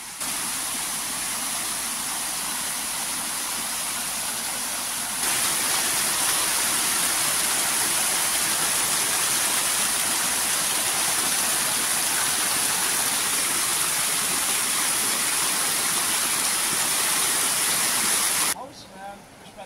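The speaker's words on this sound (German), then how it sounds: "Kleinen Wasserfall." Small waterfall along a hilly cycling route on the Upper Sûre tour in Luxembourg, a steady broadband rush of falling water that grows louder partway through as if approached closer, then cuts off near the end.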